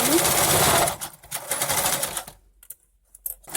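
A Singer sewing machine stitches an appliqué, running in a loud, close, continuous whirring burst that stops abruptly, followed by a few quieter mechanical clicks.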